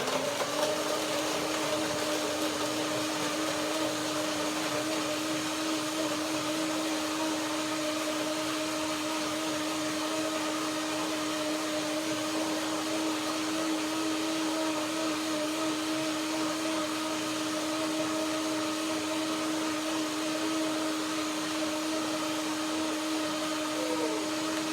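Blender whirring steadily as it blends cacao, cinnamon and a half cup of water for a hemp hazelnut chocolate cream, a loud continuous motor drone with no pauses.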